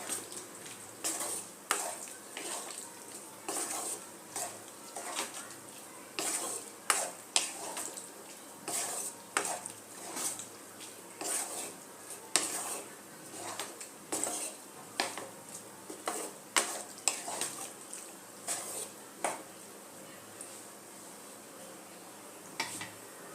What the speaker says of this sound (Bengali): মশলার সাথে ভালো মতো মিশিয়ে নেব। ফ্লেমটা আমি এখন হাই রেখেছি একটু।